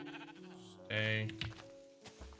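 In the Minecraft video game, a sheep bleats once clearly and nearly alone amid faint game sounds, a short wavering bleat at a low overall volume.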